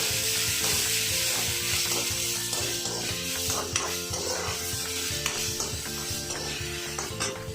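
Onion roasts in a pan with a constant bright sizzle, while a spatula stirs and scrapes against the metal in repeated strokes throughout, close and fairly loud.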